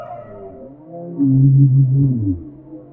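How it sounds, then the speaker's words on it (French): Humpback and bowhead whale calls play back, a loud, low, moaning tonal cry that rises and swells into a drawn-out groan, alone with no talking. "baleine à bosse et baleine boréale"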